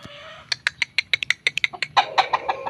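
Close-up chickens cluck in a rapid, busy string of short calls, growing slightly louder and denser toward the end.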